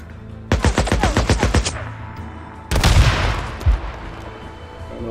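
Rapid automatic gunfire in the video game Days Gone, a loud burst of about a dozen evenly spaced shots, then a heavier blast and rumbling shots a moment later.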